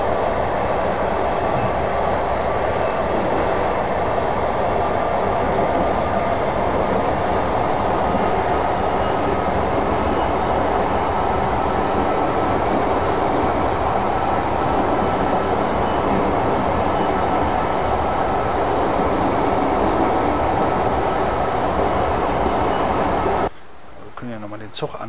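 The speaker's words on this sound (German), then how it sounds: "Zug an uns vorbeirauschen lassen." In the Train Simulator 2015 game on the Hagen–Siegen line, a train rushes past in a steady, loud, roaring wash. It holds for over twenty seconds and then cuts off abruptly near the end.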